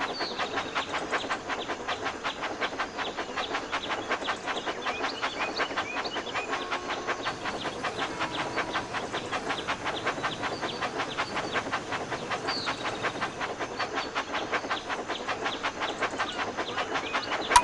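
A train engine runs steadily down a mountain track in a Thomas and Friends mobile game, giving an even rapid clickety-clack rhythm with light hiss that keeps going unbroken throughout.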